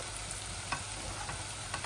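Eggs fry gently in a pan over low heat, a soft, steady sizzle with faint occasional crackles, quiet and continuous with no voices.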